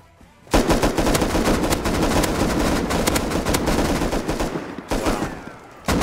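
Sustained automatic gunfire from an AK rifle in the video game Rust, a loud, dense, rapid spray that runs almost unbroken for several seconds, breaks briefly, then resumes.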